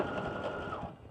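A sewing machine basting the straps of a slip dress made from New Look 6653, a steady close whirring hum running without pause for about a second.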